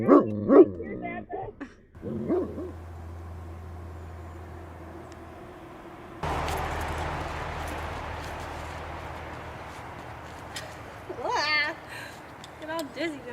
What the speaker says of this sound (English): Hagrid, you've got Pike barking on the phone